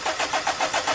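A diesel car engine turns over on its starter motor during an injector check, with about seven quick, even cranking pulses close by and no voices.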